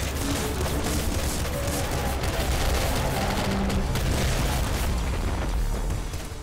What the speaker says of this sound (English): That was a splinter pistol